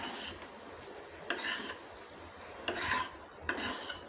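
A spatula scrapes and rubs through egg fried rice in a pan, a soft continuous shuffling with three sharper scrapes standing out, close and fairly quiet with no talking.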